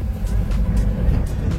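A tempo goods vehicle drives along with a steady, close, low engine rumble for a brief moment.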